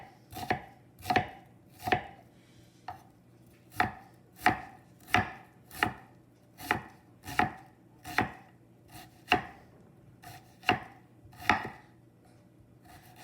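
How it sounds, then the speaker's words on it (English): A knife chops onions on a cutting board in a steady series of about twenty sharp, close thuds at an even, unhurried rhythm, with no talking. "So just going to go ahead and chop them up."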